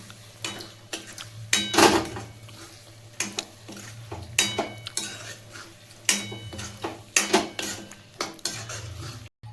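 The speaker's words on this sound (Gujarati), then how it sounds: "હવે આપણે પનીર એડ કરી દેવી પ્યુરીમાં અને કાજુ પણ આપણે એડ કરી દેવી સાથે, અને સારી રીતે આપણે મિક્સ કરી દેવી, હલાવી" A spoon stirs paneer and cashews into a tomato puree for a kaju paneer masala, scraping and clinking against the pan in repeated close, uneven strokes over a faint sizzle, with no talking.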